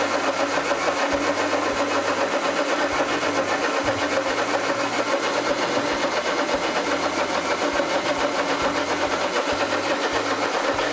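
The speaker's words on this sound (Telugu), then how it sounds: "ఇప్పుడు మిక్సీ వేసుకుందాం" A mixer grinder motor runs loud and steady, grinding yam dosa batter with green chillies, ginger, cumin and coriander for the whole stretch without pause.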